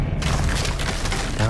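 An Expelliarmus disarming spell cast in Hogwarts Legacy gives a short, dense booming burst with a rushing, crackling texture that fills the moment and stays loud throughout.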